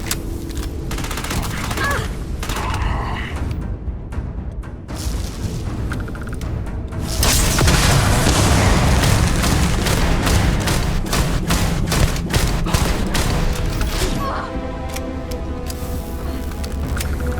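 Heavy gunfire in the sci-fi video game Starfield, with dense rapid bursts and booming shots that grow louder and more continuous midway before easing off.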